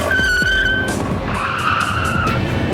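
A car skids to a stop under hard braking during a test run, tires squealing loudly and close over the engine's roar, the screech sweeping and then settling into a rougher scrub.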